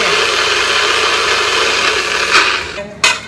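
NutriBlender whirring steadily as it purees watermelon pieces into juice, a loud continuous motor drone with a couple of brief sharper bursts near the end.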